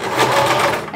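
A sewing machine stitching close to the edge along a seam of a lined curtain, a steady, close, rapid mechanical whir lasting about a second with no voices.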